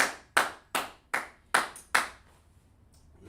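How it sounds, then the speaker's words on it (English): A run of six sharp hand claps in a steady rhythm, close and fairly loud, during a spoken lecture on Hebrew word meanings, then a quiet pause. "Put hand claps in there."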